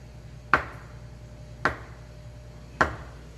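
A knife chops a peeled banana into small pieces on a board: three crisp, evenly spaced thuds about a second apart, close and clear over a quiet background.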